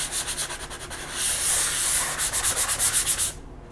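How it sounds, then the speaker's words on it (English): Light hand sanding of a painting panel with fine-grit paper, steady rhythmic rubbing strokes up close, a run of quick back-and-forth passes that stops abruptly at the end, no voices. "I'll just do a light sanding on my panel"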